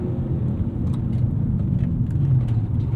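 A 2001 Lexus GS 430 V8 with an automatic transmission gives a deep, steady engine rumble under acceleration, close and continuous with a low droning growl throughout.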